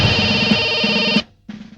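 An electronic phone ringtone plays loud and near, a steady tonal burst lasting over a second, then a brief silence before the next ring starts.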